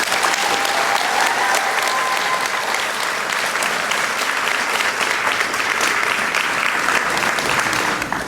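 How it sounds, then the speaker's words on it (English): A large audience at a graduation ceremony applauds steadily, dense continuous clapping at even loudness throughout, with no voices rising above it. "Let's give them a round of applause."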